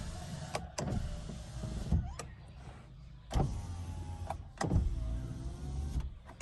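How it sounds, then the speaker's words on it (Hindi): Electric power windows on a used car being checked, each run by its switch: a series of whirring motor strokes, several in a row, each ending in a firm clunk as the glass reaches its stop, close and fairly quiet. "उसके बाद पावर विंडोज़, वो भी आपने स्विच लगा के देखने।"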